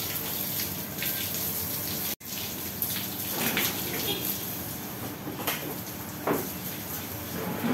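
Water gushing and splashing across a dog kennel floor as it is washed down in hot weather, a steady broadband spray running throughout with one brief cut, with some speech faintly mixed in.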